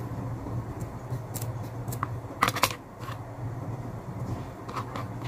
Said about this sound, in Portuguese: Agora, a gente vai, vai cortar esses pedaços de zíper.